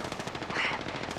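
Rapid automatic gunfire in the Apex Legends video game, a dense, continuous burst of shots lasting about a second at a steady moderate level.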